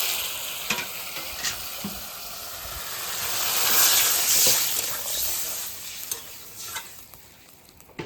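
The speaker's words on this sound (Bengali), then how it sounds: "এখন জল দিয়ে দেবো।" Water goes into a pan of fried spice paste with tomato and turmeric for a chitol fish curry, a loud hissing sizzle that swells in the middle and settles back, with occasional stirring clicks.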